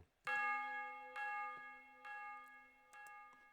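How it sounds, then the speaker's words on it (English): Tubular bells from the SRX Orchestra synth plugin strike four times in a slow, spaced pattern, each note ringing bright and sustained with a long metallic decay, loud and alone in a melody for a Memphis-style beat. "what I added is a bell from SRX Orchestra. Tub bells, S1, gives it that, like I said, Memphis feel."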